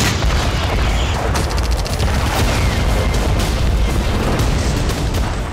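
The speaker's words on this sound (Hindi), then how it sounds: "गाजा के आसमान पर इजरायली फाइटर जेट गरजते रहे और लगातार धमाके होते रहे" Bombing over northern Gaza at night gives a continuous heavy rumble of blasts, dense and loud, deep booms rolling together with crackling bursts and no pause across the stretch.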